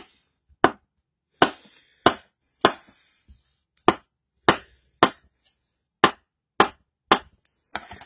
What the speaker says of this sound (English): The knife is very sharp for cutting. You can just go straight down.